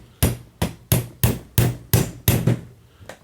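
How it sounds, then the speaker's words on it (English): A hammer taps a pin into a rifle trigger guard on a table, seven sharp evenly spaced strikes about every third of a second, loud and close, each with a short ringing decay. "I'm going to take my hammer"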